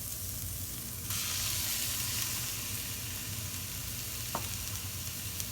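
Shrimp go into a pan of vegetable fried rice and a loud, broad sizzle jumps up about a second in, then holds steady with a brief clink of a utensil near the end, no voices.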